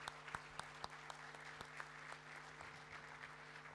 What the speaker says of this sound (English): Please give them the warmest acknowledgement and applause.